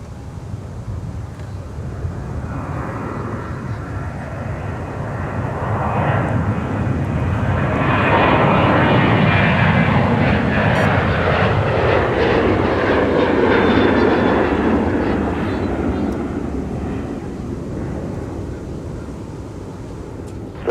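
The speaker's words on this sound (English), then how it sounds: "Watch some airplanes." A jet airliner at Minneapolis–St. Paul airport roars steadily through the clip, swelling to a peak in the middle as it passes and then easing off slightly, with some wind noise and no talk.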